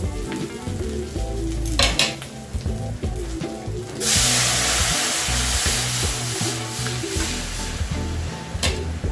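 Khesari lentils go into a pan of hot oil for a vegetarian Bengali dal, with a burst of louder sizzling as they land, then steady frying and clinking utensil scrapes against the pan.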